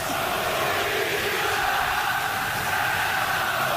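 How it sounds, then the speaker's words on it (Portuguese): Corinthians supporters in the packed Pacaembu stadium in São Paulo during a 2013 match against Boca Juniors, a loud, steady roar of massed voices singing and chanting together without a break. "Canta a torcida do Corinthians para empurrar o time."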